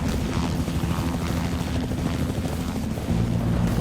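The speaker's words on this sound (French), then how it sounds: "un hélicoptère de la garde côtière survole la rivière" A coast guard helicopter flies over a river with a steady, dense rotor and engine roar. The sound is loud and continuous throughout, and its low throbbing hum shifts slightly near the end.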